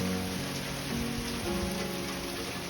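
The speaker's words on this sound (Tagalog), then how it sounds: "Lakas ng ulan mga idol dito sa Boracay." Steady, dense heavy rain pours down in Boracay without pause, a constant wash of drops hitting surfaces with a low hum underneath.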